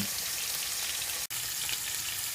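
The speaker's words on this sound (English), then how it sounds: "by having it on high heat is we're going to sear the steak just so it gets some color on the outside" A steak sears in a pan over high heat, giving a soft, continuous sizzle and crackle with one brief gap of silence midway.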